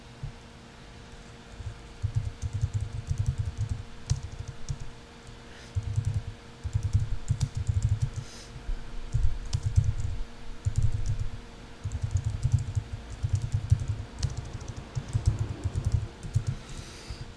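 Steady typing on a computer keyboard, quick soft key clicks in bursts with short pauses, close and fairly quiet, with no voices.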